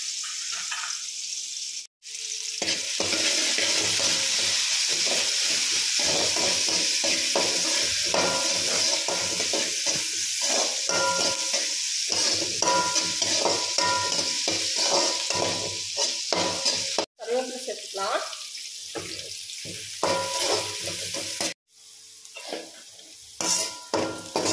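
Mustard seeds and onion frying in a pan for lady's finger poriyal make a loud, continuous sizzle with crackling and the clatter of a spoon against metal, broken by a few brief cuts to silence.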